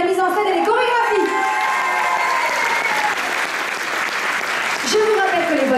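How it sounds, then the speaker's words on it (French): Audience applause at the Miss Côte d'Or pageant, loud and sustained, with a presenter's amplified voice speaking over it at the start and again near the end. "Je vous demande d'applaudir encore une fois Lara Le Breton et Guillaume Trane,"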